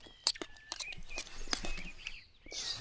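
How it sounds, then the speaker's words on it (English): Several birds chirp and tweet outdoors at a kayak campsite, scattered bright calls over a quiet background with faint rustling, fairly close and moderately loud. "So many birds out here."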